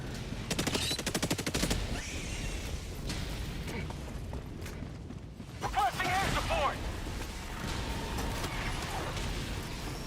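Dense, rapid gunfire in Helldivers 2, with fast repeating shots near the start and continued firing and combat noise throughout, under a player talking.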